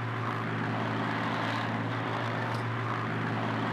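A Junkers Stuka dive bomber's aircraft engine in Flight Simulator X drones steadily and loudly throughout, a continuous propeller roar with no breaks or voices.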